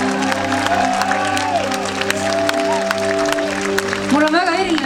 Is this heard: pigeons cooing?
no